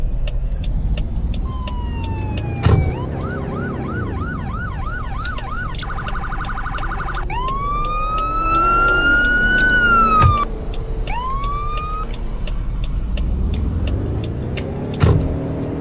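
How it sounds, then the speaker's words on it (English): A PT Cruiser drives in the Roblox video game, its engine hum running steadily beneath loud wailing and yelping sirens that sweep up and down, with brief thumps along the way. "Just a quick drive in the PT Cruiser today"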